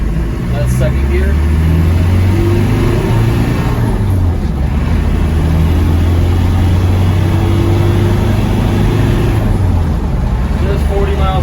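A 1991 Land Rover Defender 90 with the 200tdi diesel cruises in fourth gear at about 40 mph on a bumpy dirt road. A steady loud engine drone and road rumble continue throughout, with someone talking over them.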